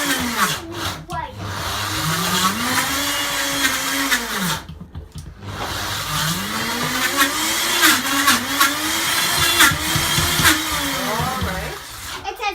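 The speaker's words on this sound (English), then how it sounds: "I don't have, so I just tried using my Vitamix, and it worked." Vitamix blender churning raw vegan gingerbread dough, a loud motor roar that rises and sags in pitch as the thick mix loads it, briefly cutting out midway, with voices talking over it.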